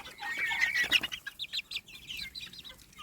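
Dual-purpose meat-and-egg breed hens cluck and squawk in short bursts, fairly close, with a busy flurry at first that settles into scattered calls over faint farmyard background.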